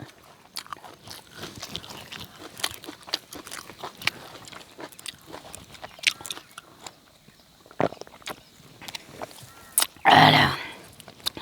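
Close crunchy biting and chewing of a spicy Thai dish with offal, eaten outdoors in a rice paddy, with steady wet mastication and crisp bites, then one loud burst of noise near the end.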